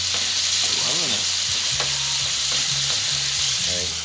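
Tomatoes sizzle and fry in a pan for a Venetian shrimp and tomato sauce, a steady close hiss with stirring clatter and a few brief clinks.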